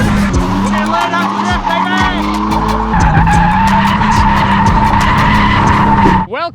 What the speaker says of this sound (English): This car does drift!